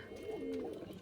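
Old-bloodline pigeons from Khulna coo softly nearby. A single rolling, throaty coo rises and falls in the middle of a quiet moment.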